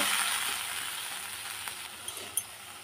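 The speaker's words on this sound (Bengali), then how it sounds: "মশলাটা ভালো করে কষিয়ে নেব।" Ground spice paste of ginger, cumin, chilli, coriander and cashew fries in a pan with a steady, close hiss, a few small pops near the end.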